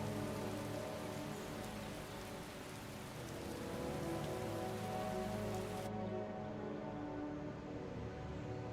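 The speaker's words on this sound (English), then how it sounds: "Oh, lucky. Rain." Rain falls in the Skyblivion game, a dense continuous patter and hiss of drops striking surfaces, steady and fairly close, with a faint low rumble beneath and the brightest high hiss cutting off partway through.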